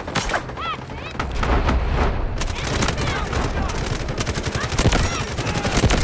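Bursts of automatic gunfire from the Delta Force shooter game, rapid rattling volleys repeating through the clip and stacking into dense fusillades, with a voice talking faintly underneath.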